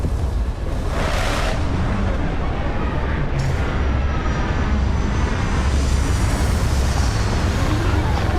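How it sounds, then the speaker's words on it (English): A spaceship settles down during a landing sequence in Starfield, producing a steady, loud, continuous engine roar and rumble with some airy whooshing, no pauses throughout. "Beginning landing cycle."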